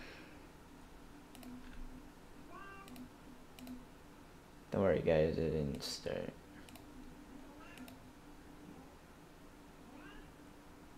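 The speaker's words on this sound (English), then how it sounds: "That cat is meowing at my door" A small cat meows at a door, a few short cries at moderate distance, with a louder burst of clicking or rattling midway and someone talking quietly over faint keyboard clicks.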